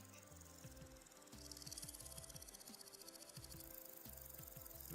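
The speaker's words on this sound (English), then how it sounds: "I think those are supposed to be crickets." Crickets chirp in the Vintage Story video game as a faint, steady high-pitched trill that continues throughout, over low, repeating rhythmic musical tones.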